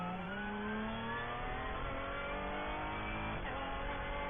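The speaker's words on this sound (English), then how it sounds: "Great sound from this Ligier JS2R." A Ligier JS2R race car's engine screams continuously at high revs during an endurance race at Sebring, its pitch climbing through the gears with a brief downshift blip near the end, loud and close with no talk.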